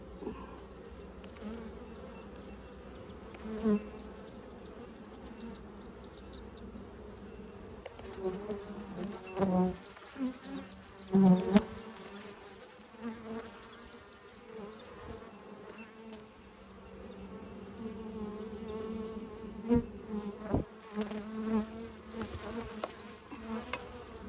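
Agitated honeybees buzz steadily inside an opened hive full of brood and honey frames. A few soft knocks from handling sound close by.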